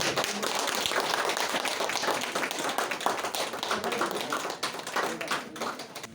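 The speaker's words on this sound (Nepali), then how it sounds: "कृपया जोरदार ताली।" An audience at a wall calendar launch for a Magar association gives sustained, busy applause, a loud dense patter of many hands that carries on for about six seconds before thinning slightly at the end.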